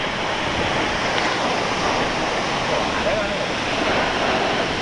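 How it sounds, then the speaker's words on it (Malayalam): Water pours from a height at a forest waterfall, a dense, steady roar heard from near the bottom of the fall, filling the whole span without a break. "ഉയരത്തിൽ നിന്ന് വെള്ളം ചാടിക്കൊണ്ടിരിക്കുന്ന കാഴ്ചയാണ് നമ്മളിവിടെ കണ്ടുകൊണ്ടിരിക്കുന്നത്."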